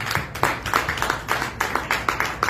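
Congregation at a church service clapping in rhythm for the Lord, steady repeated hand claps filling the room at moderate loudness.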